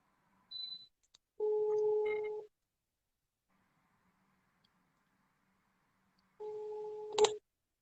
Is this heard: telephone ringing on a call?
yes